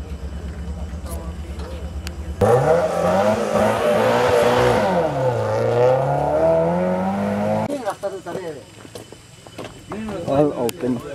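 Race cars on a road course sweep past close by during a race, an engine roar rising and falling for several seconds while people talk nearby.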